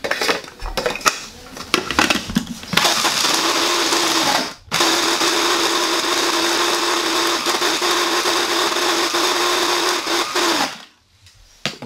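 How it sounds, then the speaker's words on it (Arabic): Loud, close whir of an electric grinder pulverizing a flour mixture for a Turkish-style baked dessert, starting in short bursts, then running steadily with one brief stop before cutting off near the end. "هنا غادي نطحنوا هاد الطحين ديال هاد المجموع ديالنا نطحنوه مزيان."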